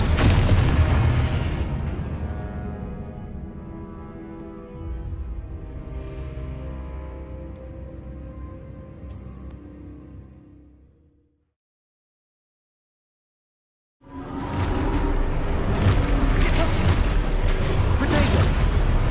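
A Confringo blasting spell from the game Hogwarts Legacy sets off booming explosions with rumbling debris that fade into a long silence, then another loud, dense burst of blast noise follows.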